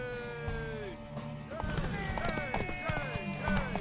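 Horse hooves galloping in The Witcher 3 game, a rapid clip-clop rhythm under music and voices, with a brief whinny, fairly close and steady.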